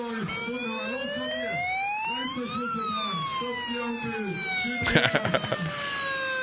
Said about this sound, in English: Just can't lay off that siren when you got one of those megaphones.